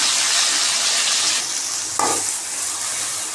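Chopped onions and tomatoes sauté in a pan for a mushroom gravy, giving a steady close hiss of frying with a brief sharper burst partway through as the tomatoes go in. No one speaks.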